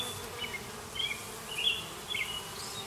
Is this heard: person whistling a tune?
no